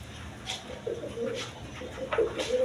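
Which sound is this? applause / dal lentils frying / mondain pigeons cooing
mondain pigeons cooing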